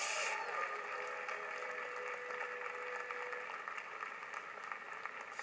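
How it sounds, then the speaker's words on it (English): A church congregation claps in a steady, dense wash of applause, heard from a moderate distance, with a faint sustained tone underneath early on and no clear speech. "I wish y'all would clap better than that."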